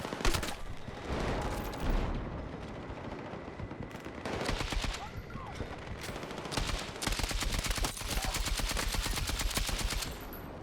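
A KTS100 MK8 light machine gun in Battlefield 6 fires long, rapid automatic bursts, loud and close, broken by short pauses between sustained streams of shots.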